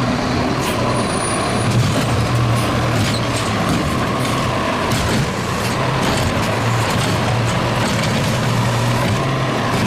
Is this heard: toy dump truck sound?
yes